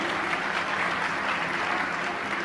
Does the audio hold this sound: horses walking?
no